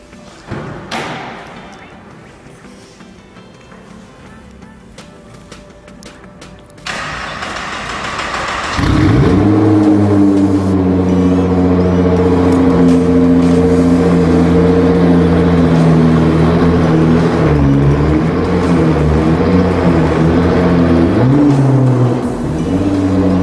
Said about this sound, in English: we're gonna get a cold start up on the FI exhaust on the R35